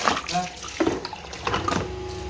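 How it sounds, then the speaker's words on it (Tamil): Drinking water drains away from a supply point at Mettupalayam, a running, splashing trickle heard through someone talking nearby. "தண்ணி கீழே போகுது"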